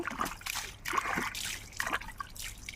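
Water trickles and splashes steadily while a newborn baby is bathed, soft pours and drips close by with no talk.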